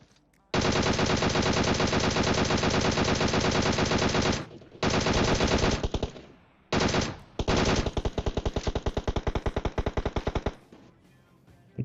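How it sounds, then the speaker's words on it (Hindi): Automatic gunfire in a battle royale game, with long loud sustained bursts of rapid shots, broken by brief pauses, then a final run of faster, choppier bursts that ends in quiet. "मेरे कान के बगल से गोली जाती है, वो भी कार 98 की गोली"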